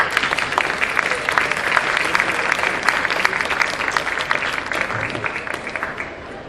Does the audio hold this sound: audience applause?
yes